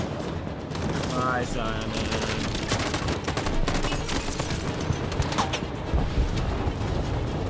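Rapid bursts of gunfire in a shootout in the video game Detroit: Become Human, crackling shots and volleys running throughout, with someone talking over them.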